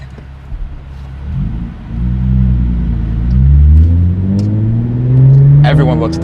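A straight-piped Hyundai Genesis Coupe 3.8 R Spec with a manual gearbox revs up in second gear, its engine note climbing and swelling loudly in rising waves before easing off near the end.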